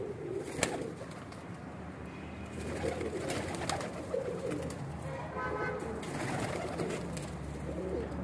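Pigeons coo softly and repeatedly in a loft, low murmuring calls layered over a steady background hum, with a faint horn-like toot early on.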